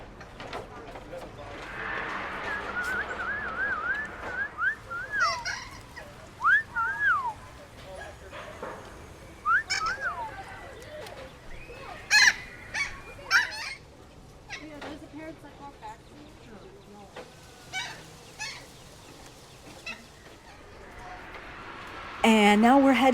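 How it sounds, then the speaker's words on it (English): Parrots at an outdoor zoo exhibit at Hersheypark's ZooAmerica in Hershey, Pennsylvania, give small squeaky chirps and whistles that come in scattered bursts, mostly faint, with people talking nearby throughout. "here's some parrots coming up on the right outside here, and they're making these cute little sounds"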